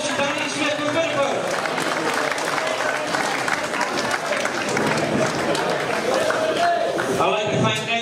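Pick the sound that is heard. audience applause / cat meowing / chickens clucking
audience applause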